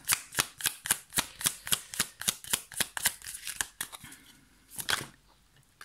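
Tarot cards are riffled and snapped in a quick, regular run of about fifteen sharp crisp slaps, close and clear, then a pause and a couple of softer card draws and slides near the end.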